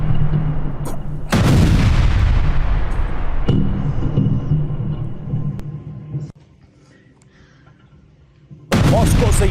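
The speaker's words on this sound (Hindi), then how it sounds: "ड्रोन का मलबा इमारत पर गिरने के बाद धमाका हुआ" Several loud, booming blasts in Moscow after drone debris falls on a building, each followed by a long rumbling decay, with quieter pauses between them.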